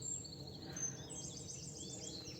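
Birds chirp and sing faintly outdoors on a spring walk past a blossoming apple tree, with high, scattered calls over a steady low background rumble.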